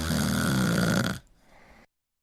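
A dragon snoring as a sound effect: one loud, deep, rasping snore that drops to a quieter breathy tail before silence.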